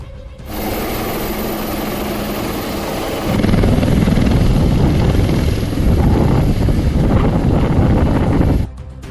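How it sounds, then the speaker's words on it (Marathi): A loud, close army helicopter on a flood rescue over the Girna river near Nashik, with a rapid rotor chop and engine drone that grows stronger partway through, then cuts off abruptly near the end. "आज सकाळी लष्कराचे हेलिकॉप्टर पोहोचले"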